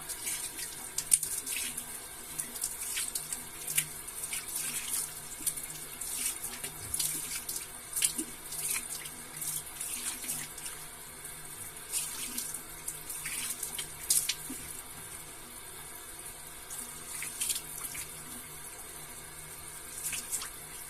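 Running tap water flows into a sink while a man washes his face after a traditional shave, a steady stream broken by soft splashes and scattered small slaps of water, close and without speech.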